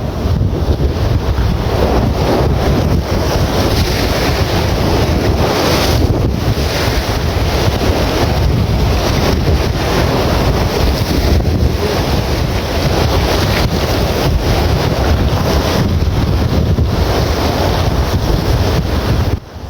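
Heavy sea waves crash and churn continuously, mixed with loud wind buffeting the microphone, a roaring, unbroken rush of water close by.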